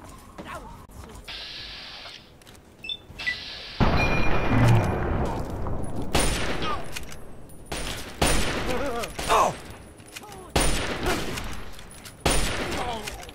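Gunfire crackles and booms in a Fallout 3 firefight, rapid volleys and heavy blasts at full loudness over a constant game soundscape, with a voice talking through parts of it.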